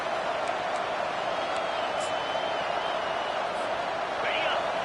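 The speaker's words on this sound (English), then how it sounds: "Now the crowd responding in the red zone, trying to help this defense." Steady, dense roar of a college football stadium crowd cheering as the defense holds in the red zone, a broad continuous wash that stays loud and even throughout.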